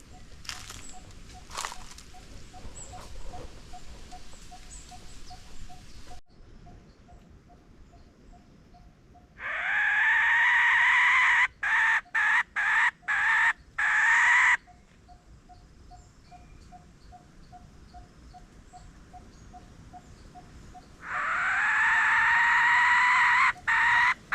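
Two long rooster crows ring out loud and close, separated by softer background clucking and rustling outdoors.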